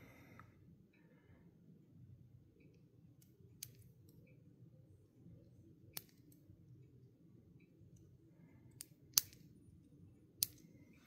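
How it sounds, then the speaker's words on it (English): Small hobby snips cut HO scale plastic model brake rigging free from its molding sprue, giving a few sharp, isolated clicks spaced apart over a faint low background hum, with no talking. "Cut it from its molding."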